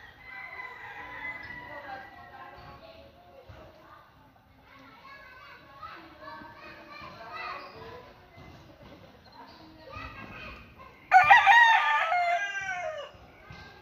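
Imported fighting cock crows once loudly near the end, a sharp rising call cutting above a murmur of people and children talking in the background.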